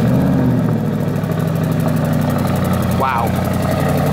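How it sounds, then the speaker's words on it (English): Car engine with a sports exhaust idles loud and close, a steady low rumble with one brief blip near the end, while people talk over it. "You can tell that's the sports exhaust."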